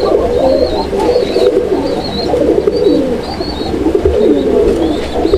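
Several small Madrasi pigeons coo steadily at close range, low rolling calls repeating almost without pause over faint high chirps.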